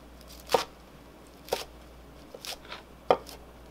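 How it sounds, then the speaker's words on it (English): A knife roughly chops bunched leafy greens on a board. Four distinct, crisp chops land at uneven intervals, each one sharp and close against a quiet background. "I'm going to bunch them up, and I'm just going to cut them kind of rough"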